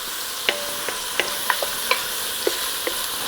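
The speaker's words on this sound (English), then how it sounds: "the only thing I want to do with this is just soften up the onions" Onions soften in a pan with a low sizzle, and a spoon taps and scrapes in a loose rhythm of sharp clicks roughly every half second, close and with no talk.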